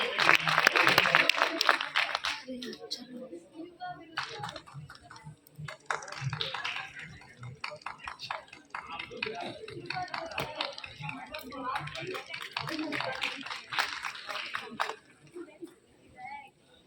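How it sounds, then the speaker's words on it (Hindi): An audience at a speech event clapping heartily to welcome a speaker, strong at first and then continuing in uneven bursts with a voice speaking over much of it. "तालियां बजाते रहिए भाई"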